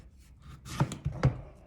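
A knife slicing thin pieces from thick-skinned food makes three quick, crisp cutting thunks, close and fairly loud, over a quiet background.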